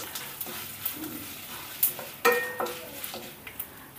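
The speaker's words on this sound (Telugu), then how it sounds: "మన పోపు అంతా చక్కగా వేగింది కదా" Spices sizzle and crackle in hot oil as dried red chillies, curry leaves, a pinch of turmeric and asafoetida are tempered for buttermilk rasam, with scattered pops and a few sharp clinks of a spoon against the pan, fairly quiet and close.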